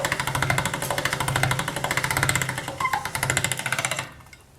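Polymer clay being fed through a pasta machine on its thickest setting, number 7: a steady, rhythmic mechanical churning of the rollers, fairly close and loud, running for about four seconds before stopping abruptly.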